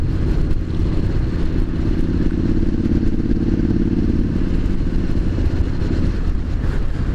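Triumph SS900 motorcycle riding up a quiet country road, a loud close engine drone holding a steady throttle with rumbling exhaust and wind buffeting throughout.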